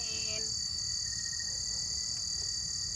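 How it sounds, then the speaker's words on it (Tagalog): A steady, high-pitched chorus of crickets trills continuously through a quiet night at a tree farm in Bailen, with faint low rustling beneath and no voices. "Maririnig mo lang dito yung huni ng mga kuliglig."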